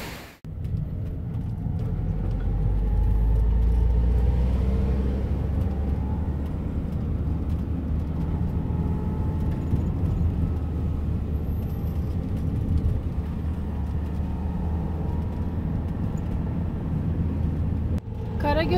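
A car climbs a steep mountain road toward the Karagöl plateau near Kızılcahamam, shifting between second and third gear. Its engine gives a steady, close, low rumble throughout, with voices talking over it.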